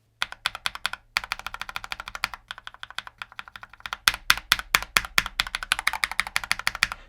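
Mechanical keyboard without O-rings being typed on steadily, a close, crisp run of rapid clacking keystrokes with short pauses and a few louder, harder-struck bursts toward the end.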